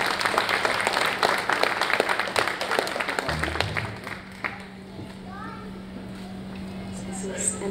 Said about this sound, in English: her a round of applause